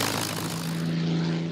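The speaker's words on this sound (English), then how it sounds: "This British Spitfire roars to life." A British Spitfire fighter plane's 1,750-horsepower Merlin engine roars steadily, loud and close, with a deep droning propeller hum that holds throughout without pause.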